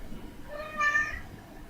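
A person imitating a cat's meow, a single short nasal mew rising and falling, clear and close against a quiet background.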